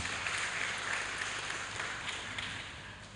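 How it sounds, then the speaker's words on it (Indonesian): Applause for Google Indonesia at a Chromebook handover ceremony for schools in Gunung Kidul, a soft, steady wash of clapping from a crowd, heard at a distance and fairly faint. "Saya kira ini perlu kita berikan tepuk tangan untuk Google Indonesia"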